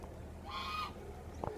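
A single goose gives a nasal honk of moderate loudness, followed by a brief faint squawk, over quiet outdoor background.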